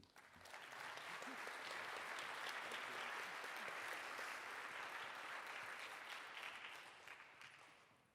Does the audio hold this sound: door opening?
no